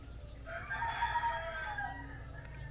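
A rooster crows in a drawn-out call, somewhat distant, with a low background hum and no talking.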